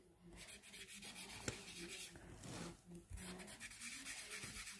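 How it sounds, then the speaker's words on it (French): A small electric eraser rubbing over paper on a flower drawing, buzzing and scrubbing in repeated bursts with brief pauses, close and fairly faint. "Avec ma petite gomme électrique."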